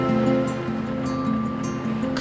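High sea waves surge and wash against a rocky uninhabited island off Gwanmaedo, a steady loud roar of surf with low droning rumble throughout and no voices.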